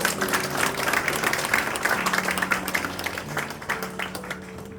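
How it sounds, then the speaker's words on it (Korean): Audience applause fills a Korean award ceremony for professional missionaries, a dense, steady clapping from a crowd in a hall lasting several seconds with fluctuating intensity. "큰 박수로 함께 축하해 주시기 바랍니다."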